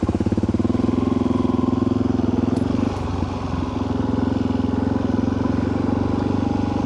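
A Suzuki DRZ 400 Super Moto's single-cylinder engine drones steadily while riding, a loud close throbbing hum that dips briefly around a throttle change before settling back into the same even pulse.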